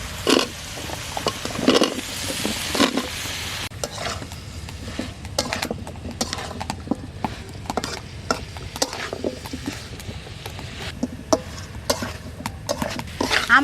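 Spice paste with amra (hog plum) stirred and fried in a pan, close scraping and clattering strokes in a steady rhythm over a constant sizzle, no voices.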